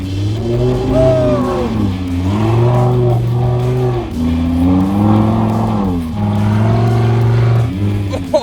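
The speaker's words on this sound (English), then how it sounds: "Today we're gonna take the Lamborghini Sharerghini and we're going to drive it on the frozen ice" A Lamborghini driving on frozen ice in 18-degree cold in Pennsylvania, its engine droning loud and close with repeated rises and falls in revs and a steady rumbling roar throughout.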